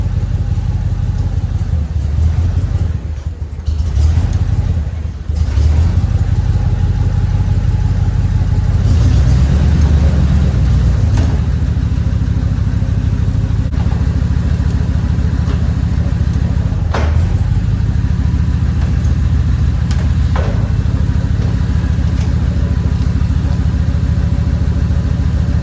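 A 1940 Ford runs in gear with its rear wheels spinning, giving a loud, steady engine drone close by. The pitch wavers slightly through the long run, with brief dips partway through.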